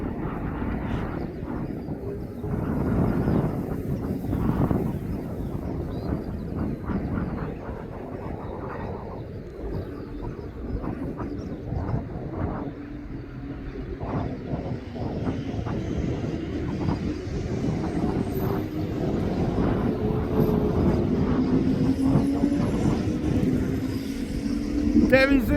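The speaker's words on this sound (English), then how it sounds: "There is another Jet 2 flight now coming in. He's on finals" A Jet2 passenger jet on final approach at East Midlands Airport, arriving from Faro, gives a steady broadband engine roar that builds slowly over about 25 seconds, with someone talking over it throughout.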